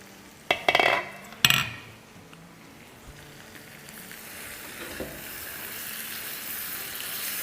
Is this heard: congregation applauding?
no